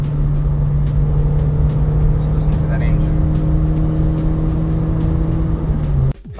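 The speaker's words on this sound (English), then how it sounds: "Just listen to that engine." A Renault Clio Gordini RS hatchback engine holds a steady, loud drone with a sustained high rev, then cuts off abruptly near the end.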